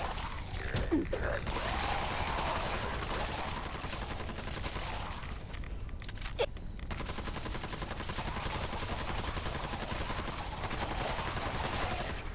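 Gunfire in the video game Fallout 4: dense, continuous shooting and loud rattling bursts that run almost unbroken, with one brief lull near the middle.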